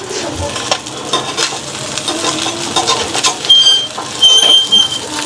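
Modak fish fries in oil and is flipped piece by piece, bringing a soft sizzle under scraping, close clinks of a metal utensil against the pan and a few sharp metallic taps.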